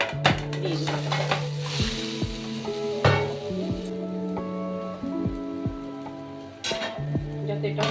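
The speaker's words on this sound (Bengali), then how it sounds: "ফ্রাই প্যানে আবার তেল দিয়ে নেবো" Food fries in oil in a frying pan, a soft sizzle under repeated close clinks and scrapes of a utensil stirring against the pan, with sharp metallic taps scattered throughout.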